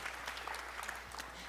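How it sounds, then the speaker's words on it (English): Applause from an audience at a community crafting event, steady dense clapping filling the whole moment at a fairly low level, no voices over it. "Round of applause."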